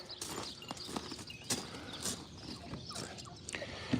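Donkeys walking and shuffling about outdoors, giving soft, irregular hoof thuds and clip-clops that come and go with faint rustles, moderately close and with no talk over them.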